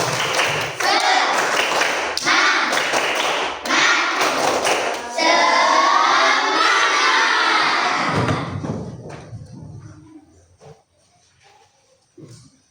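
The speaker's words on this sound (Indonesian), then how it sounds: "Coba tepuk semangat." Children in a classroom perform a rhythmic group clapping cheer, sharp claps in patterned bursts with shouted chanting, ending in a sudden drop to near quiet.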